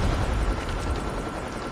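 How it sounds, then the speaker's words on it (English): In Call of Duty Mobile, a stealth chopper arrives as a dense, steady roar of rotor and engine noise that fills the scene, loud and continuous with no pauses. "Stealth chopper inbound."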